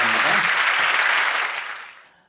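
A church or lecture audience gives a round of applause in thanks, a dense burst of clapping that holds steady, then thins and fades away over the last second, with no talk over it.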